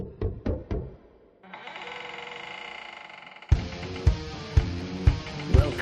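Three sharp knocks at a door in an animated Moomin and the Three Bears story, crisp and close, followed by a steady hum and then a string of heavier thumps under background sound.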